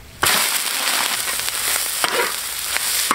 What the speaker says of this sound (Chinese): 先煸炒一下，炒出牛油